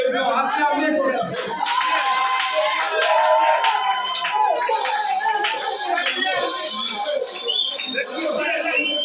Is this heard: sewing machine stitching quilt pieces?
no